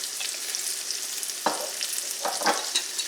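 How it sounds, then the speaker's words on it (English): Fried rice gets tossed in a skillet with a spatula, a low background sizzle broken by a few scraping, rustling strokes, close by and with no voices. "I'm going to use this other spatula now. Just toss everything."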